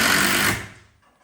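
A single 5x90 screw is driven into wood with a power driver, a brief, loud buzzing whir that cuts off and fades within about a second.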